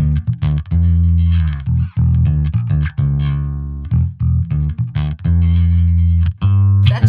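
A Czech-made through-neck bass guitar plays a growling, slightly distorted line of sustained low notes with short gaps, loud and close with no talking.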